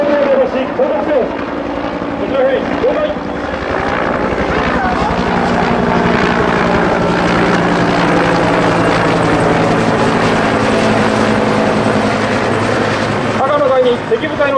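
A reconnaissance helicopter flies in low over a military training exercise, its loud, steady rotor roar and engine whine filling the whole stretch up close, with a faint announcer's voice under it.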